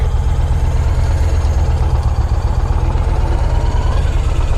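A 2006 Yamaha Stratoliner 1900 motorcycle with 51,000 miles runs with a continuous deep, close engine rumble throughout, and no voices over it.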